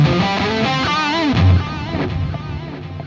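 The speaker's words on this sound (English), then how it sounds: "What you hear is the noise from the distortion." High-gain guitar distortion with no noise gate plays through an amp, a loud, sustained hiss and hum under bending guitar notes that wind down into buzzing amplifier noise.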